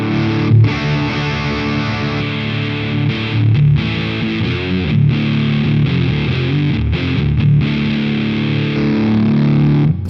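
An electric guitar plays thick, fuzzy distorted chords, heavily compressed and sustained, loud and continuous with brief breaks between strums.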